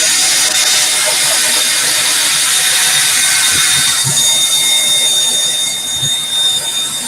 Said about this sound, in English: He's got the drill out.